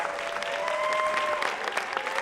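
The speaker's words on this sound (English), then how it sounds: "you can hear the standing room only crowd behind me" A standing-room-only crowd at a sports finals event applauding, dense continuous clapping filling the space with a faint steady tone running underneath, loud and sustained throughout.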